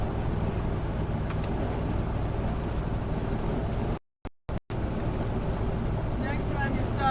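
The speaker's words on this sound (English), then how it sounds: "That engine sounds like it'll outlast the rest of the truck." A steady, low diesel truck engine idle rumbles continuously, briefly cut out by a couple of short dropouts before the drone resumes.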